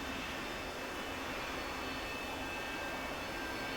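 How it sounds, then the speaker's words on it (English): Steady aircraft engine drone in a flight simulator game, a loud, unbroken broadband roar with a faint high whine on top, heard alone without speech. "The engine is so noisy."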